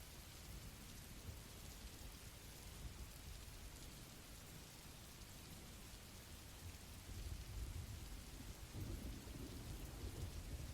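Steady heavy rain hisses without pause, while low thunder rumbles swell in the latter part under the constant downpour.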